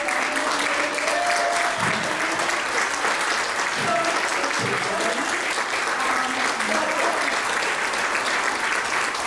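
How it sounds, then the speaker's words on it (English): An audience at an HIV care council retreat gives a long, dense round of applause, loud and continuous, with a few voices faintly calling out underneath. "I want to give a big round of applause to my team."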